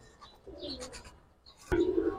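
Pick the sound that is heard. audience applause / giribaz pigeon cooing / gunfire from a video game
giribaz pigeon cooing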